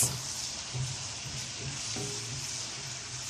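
Chopped onion fries in a mix of ghee and a little oil in a pan, giving a steady, close sizzle with a soft crackling texture throughout and no talking.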